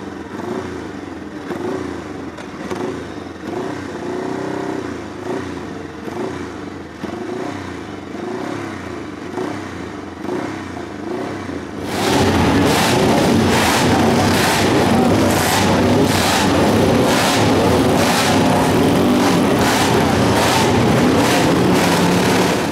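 AJS 7R single-cylinder racing motorcycle on an Isle of Man Manx GP classic parade lap, engine idling and blipping with a chattering beat before swelling into a loud, sustained, rough roar close by.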